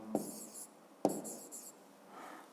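Answers to a maths exercise being jotted down: two quick, soft scratching strokes about a second apart, faint over a quiet background hiss.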